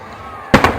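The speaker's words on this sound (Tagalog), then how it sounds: "sa fireworks? Oh, meron pa." A firework bursts nearby with a sudden sharp bang and a quick crackling follow-up after a moment of quiet hum.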